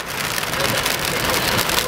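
Small hail falling outdoors at a park during an April storm with flooding, a dense continuous patter of hailstones with no talking.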